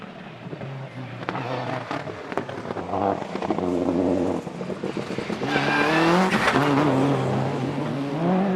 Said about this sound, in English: and James Ducker with that Subaru Impreza WRC, trying very, very hard there.